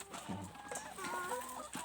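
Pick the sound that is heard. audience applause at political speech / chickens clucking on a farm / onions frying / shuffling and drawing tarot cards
chickens clucking on a farm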